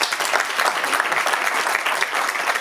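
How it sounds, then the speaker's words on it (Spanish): An audience at an award ceremony in Losar de la Vera gives sustained applause, a loud continuous patter of many hands clapping. "Un aplauso."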